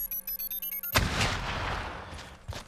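A grenade explodes in the Third Person Shooter Kit game demo: a sharp, loud boom breaks in over a tonal game sound, then rumbles and decays over about two seconds, with a smaller thud near the end.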